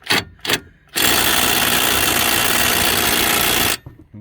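A power tool tightens a bolt while Monroe Quick-Struts are installed on a vehicle. After two brief rattling bursts, a loud, steady whirring run lasts almost three seconds and then cuts off abruptly.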